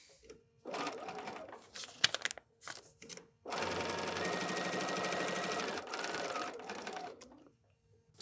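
A sewing machine stitches fabric for foundation paper piecing. It makes a few short stop-start bursts, then one steady, close mechanical run of about two and a half seconds. Nobody talks.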